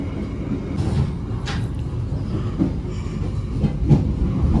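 A train pulling into Cirebon station in Indonesia, heard from inside the carriage: a loud steady rumble of wheels on rails with rhythmic clacks and a brief squeal, continuous throughout with no talking.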